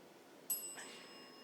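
A small bell rings once during a business talk on technology in the BPO industry, a bright short ding with a faint ringing tail, quiet and fairly close in an otherwise hushed room.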